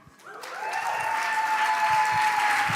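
Audience applause at TechChill Riga, a tech startup event, where a large crowd claps steadily and loudly after a pitch, the sound building quickly and holding at full strength throughout.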